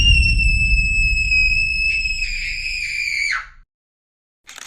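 A young boy screams, a long shrill sustained cry with wavering pitch that lasts several seconds and then cuts off abruptly into silence.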